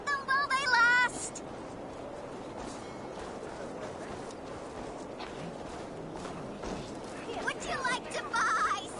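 Goats bleating in the video game Assassin's Creed Valhalla, with a few short bleats near the start and end over busy footsteps and ambient game noise, with talking mixed in.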